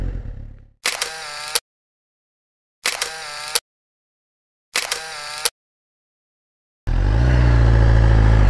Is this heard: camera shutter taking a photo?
yes